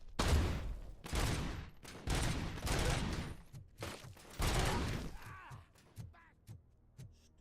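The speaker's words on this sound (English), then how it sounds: "Stop shooting me." Loud, close gunfire in the video game RoboCop: Rogue City, with dense automatic bursts and rapid shots that thin into separate cracks and echoing impacts toward the end.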